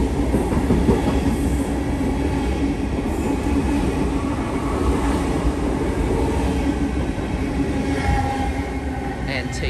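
A Sydney Trains passenger service, the last Waterfall train of the day during industrial action, passing through a station between Oatley and Mortdale, a loud continuous rumble of rolling wheels with faint squeals, close by throughout.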